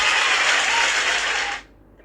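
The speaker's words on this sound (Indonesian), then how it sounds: "tepuk tangan dulu guys" An audience bursts into dense, even applause during an affiliate-marketing class, holding steady for about a second and a half before cutting off abruptly into near silence.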